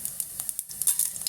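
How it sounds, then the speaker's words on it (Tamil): Mustard seeds and cumin sizzling in hot oil: a close, bright crackle with rapid popping that stays steady throughout. "எண்ணெய் ஊற்றிட்டா கடுகு, கொஞ்சம் ஜீரகம்,"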